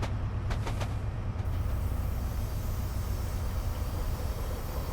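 A train arriving in Train Simulator Classic on the South Wales network gives a steady low rumble and engine drone, with a few brief higher squeals near the start.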